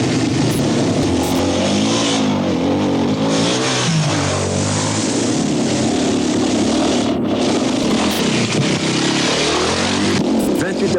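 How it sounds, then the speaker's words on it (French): A rally car engine roars loudly and continuously during the 1991 Raid Primus rally in Congo, rising and falling in pitch as it revs, with a voice faintly mixed under the din. "Il y a une bagnole qui arrive."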